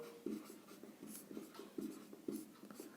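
Pen strokes scratch out a Class 10 arithmetic progression problem in a series of quick, close scribbles and taps, with short pauses between the strokes and no talking.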